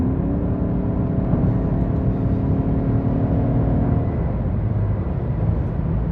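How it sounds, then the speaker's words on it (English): Naturally aspirated V8 of a Lexus RC-F Fuji Speedway Edition pulling hard on the road, a steady loud low engine drone heard from inside the cabin with continuous road roar and no pauses. "to hear the naturally aspirated V8"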